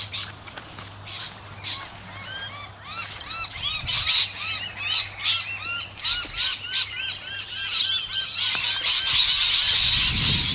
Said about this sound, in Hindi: ये मैना ने अलार्म किया है कि भागो।